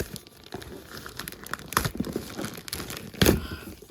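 Scissors snip and tear through WPro gas hob and oven care kit parcel packaging, giving close crinkling and rustling with scattered crunchy cuts and a louder tearing burst near the end.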